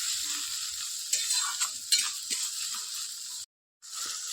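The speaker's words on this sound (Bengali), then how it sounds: "এখানে দিয়ে দেবো টমেটো কুচি। এবার টমেটোটা ভালোভাবে গলে যাবে।" Chopped tomato frying in a pan for an aloo fulkopi dish, a steady close hiss of sizzling oil with soft scraping stirs and occasional light clinks, briefly cutting to silence near the end.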